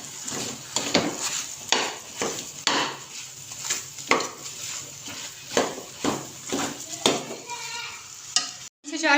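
Sooji halwa cooks in a pan over a slow flame, giving a steady close sizzle broken by repeated scraping strokes of a spoon against the pan at a regular stirring rhythm.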